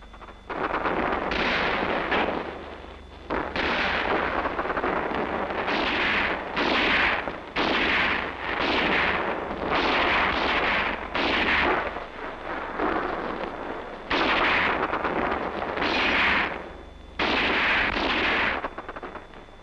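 Repeated heavy artillery blasts and gunfire during an infantry team's combat advance against an enemy attack, loud booming bursts recurring every second or two with brief gaps between them.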